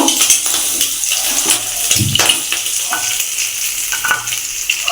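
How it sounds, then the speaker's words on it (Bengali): Shrimp fry in oil in a pan with a loud, close, bubbling sizzle, stirred now and then with scraping and clinking of a spatula against the metal. "মাছগুলো ভালো করে ভেজে নেবো"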